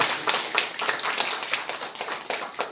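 Steady applause from the audience fills a teacher farewell and honor ceremony, dense continuous clapping at close range with no talk over it.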